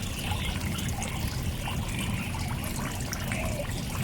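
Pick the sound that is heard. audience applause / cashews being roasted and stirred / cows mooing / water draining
water draining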